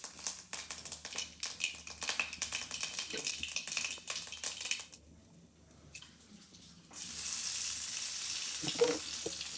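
Mustard seeds and curry leaves crackle and sizzle in hot oil in a pan, with dense popping that briefly dies down before a fresh burst of loud spitting.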